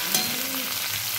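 Chicken and tomato cooking in a pan, a steady close sizzle with a brief clatter near the start, no voices over it.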